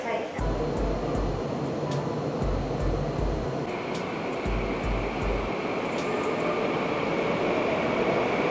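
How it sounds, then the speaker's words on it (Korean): Steady rumble and whoosh inside a GTX-A train between Dongtan and Suseo, with rhythmic low thumps early on and a faint high tone sustained near the end. "저는 GTX-A를 타고 동탄에서 수서역까지 갔다가 수서역에서 동탄까지 다시 내려왔습니다"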